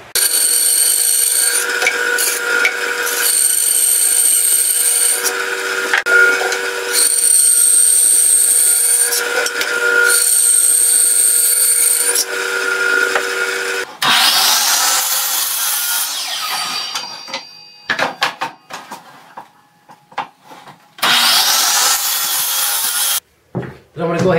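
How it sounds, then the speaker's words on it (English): A power saw rips longitudinal lap joint cuts into wood for a rolling tool storage cart, running in long, loud, steady passes with brief pauses between them, then shorter choppy bursts near the end. "now I'm going to go ahead and cut all of my longitudinal lap joint cuts"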